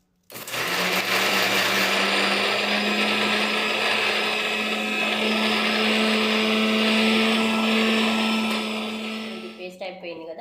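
A mixer grinder whirs steadily while blending onion into a paste, a loud continuous motor drone with a strong steady hum, running for about ten seconds before cutting off abruptly.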